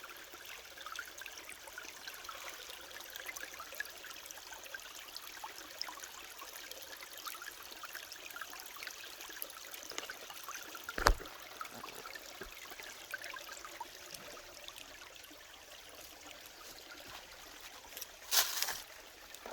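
A woodland creek flows with a steady, gentle trickle and babble throughout, with a couple of brief louder splashes or knocks partway through and near the end.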